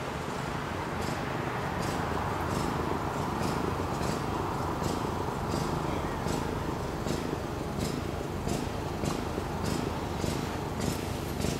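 Several house cats purring steadily and close, a continuous low rumble that fills the whole stretch alone, with no talking.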